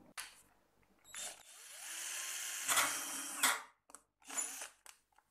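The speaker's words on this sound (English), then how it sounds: "I drilled to enlarge the holes at the other end of the push-in fitting, so that the air hose can slide all the way through." A small power drill enlarges the holes in a push-in air fitting in short bursts, whining up and stopping several times at close range, then a few brief final revs.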